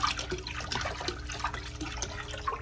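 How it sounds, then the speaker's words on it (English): Water from a garden hose pouring steadily into a plastic tote, a continuous splashing, gurgling rush heard close and fairly loud without pause. "I'm just gonna fill this tote up with water with the hose"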